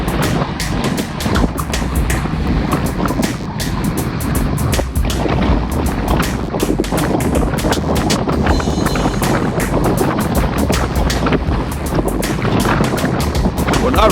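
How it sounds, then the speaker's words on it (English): Strong wind roars and buffets the microphone steadily during a group cycling ride on a hot, humid day near Honea, Texas, loud and continuous throughout. "The wind has picked up tremendously, and we don't have much shelter in this spot."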